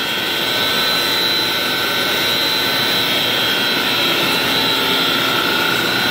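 Six 50-horsepower water slide pump motors run together at full blast beside a pool, a loud, dense, unbroken roar with a strong high whine that stays constant throughout.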